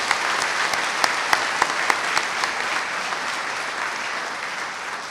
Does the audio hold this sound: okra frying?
no